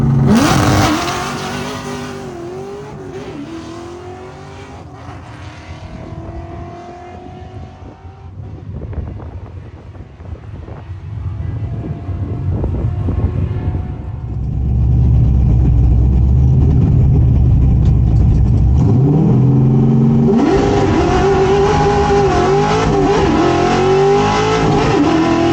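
A 1968 Ford Torino drag car launches hard off a 2-step at 6,500 rpm, tires blowing off with wheel hop; a loud, sustained engine roar rises and falls, then surges again, with heavy wind buffeting on the microphone.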